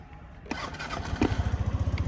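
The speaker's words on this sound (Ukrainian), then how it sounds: "Ще раз заведемо його з кнопочки." A Suzuki Address V125 scooter is started with its electric button: a brief cranking whir, then the engine catches and settles into a steady, rhythmic idle putter close by, with no talking.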